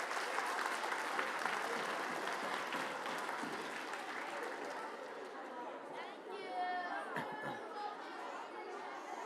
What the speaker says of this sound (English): Give yourselves a round of applause for being so awesome.